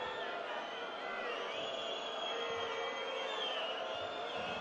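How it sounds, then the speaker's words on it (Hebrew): Crowd noise in a basketball arena during a game between Ironi Nahariya and Maccabi Haifa, a dense, continuous roar from the stands at moderate level, with a commentator talking over it. "עבירה שנייה, רעש קהל"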